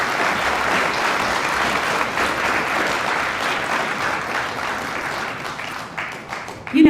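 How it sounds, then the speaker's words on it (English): Audience at a school IT Academy year-end celebration applauds steadily and loudly for nearly seven seconds, a dense wash of clapping with no voices standing out. "Let's give them one more round of applause."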